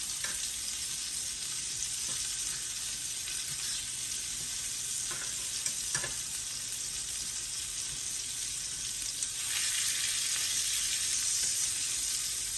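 Beef steak fries in a pan for a Cambodian lok lak, giving a steady bright sizzle with faint stirring scrapes and a few soft clicks, with no talk.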